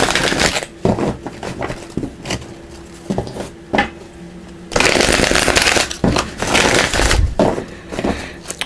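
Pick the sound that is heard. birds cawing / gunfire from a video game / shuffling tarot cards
shuffling tarot cards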